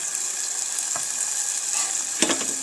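Tomato gravy added to a hot pan for a Gujarati-style val bean curry, giving a continuous bright sizzle close up, with a single clack of a utensil near the end.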